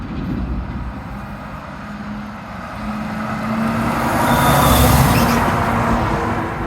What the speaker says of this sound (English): let's see how fast that truck's going